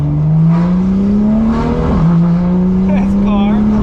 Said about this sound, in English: This car sounds absurd now.